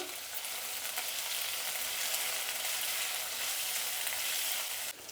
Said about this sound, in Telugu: ఇప్పుడు దీన్ని బాగా వేయించుకోవాలండి